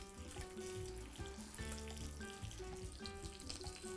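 Butterflied shrimp sizzle steadily in hot oil in a pan over high heat for piri-piri prawns, a loud, continuous hiss and crackle with no break.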